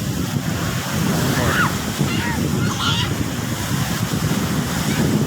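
Strong ocean surf rolls in at Bangsaen beach, a loud, continuous wash of waves with heavy wind rumble on the microphone and faint distant voices in the background.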